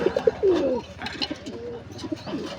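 A female Adana Tulip pigeon coos close by in a series of soft, throaty calls, with faint rustling around the coop.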